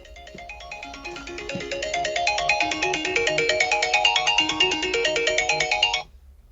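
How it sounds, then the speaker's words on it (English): A phone ringtone plays a bright, repeating electronic melody, close and clear, and builds steadily for about six seconds before it stops abruptly, with no voices over it. "Answer your phone."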